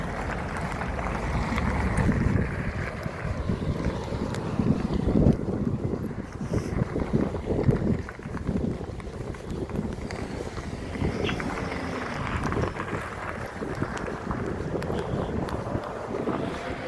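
Strong, typhoon-like wind gusts and buffets the microphone in a continuous, fluctuating roar that surges and eases throughout.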